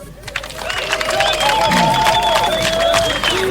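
A crowd at APR football club's presentation of newly signed players cheers and claps, the applause swelling within the first second and holding steady, with high whistles cutting through the noise.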